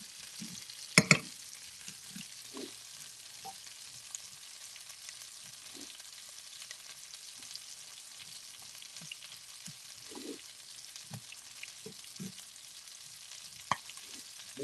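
Onions frying in a pan give a faint, low hiss in the background, broken by scattered soft pops and a couple of sharp utensil clacks.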